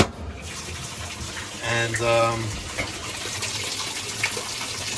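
Washing machine filling with water on a quick rinse cycle, a steady gushing flow under a man's brief speech, with a hum in the background.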